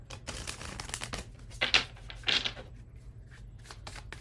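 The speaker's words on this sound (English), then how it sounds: "just gonna shuffle." Tarot cards being shuffled by hand, soft papery riffles and crinkling rustles close by, with a couple of louder bursts midway and no talk.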